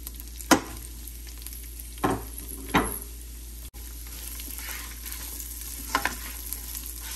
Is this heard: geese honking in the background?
no